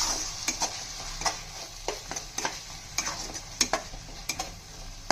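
Chili and coriander-cumin powder mixed in a pan, a spoon giving sharp intermittent clinks and scrapes over a soft background sizzle, close and alone.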